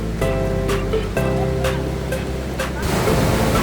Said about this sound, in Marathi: समुद्राची गाज ऐकत चालण्याची एक वेगळीच मजा असते